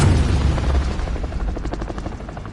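A loud, close helicopter in Call of Duty: Modern Warfare Warzone roars with a rapid, thudding rotor chop, throbbing steadily with a deep rumble underneath.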